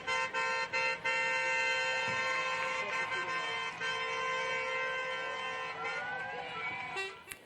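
Car horns honking at a street protest in France, several overlapping sustained blasts sounding almost continuously with short gaps, loud and close, with crowd noise beneath.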